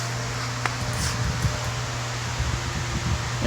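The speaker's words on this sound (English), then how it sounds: "excuse the fan if it's too noisy" An electric fan runs steadily in a warm room, a constant broadband whoosh with a low hum throughout and occasional faint knocks and rustles.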